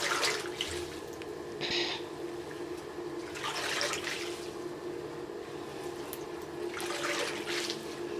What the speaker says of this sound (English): I'm going to just dip the hair in,